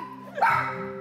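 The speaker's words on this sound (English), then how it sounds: "Look at this dog." A single short, close dog bark cuts in over a low steady background hum, loud for a moment before fading.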